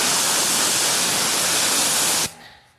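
A strong spray of water rinses a BMW E36 M3 outdoors, a loud, dense hiss running steadily for about two seconds before cutting off abruptly into quiet.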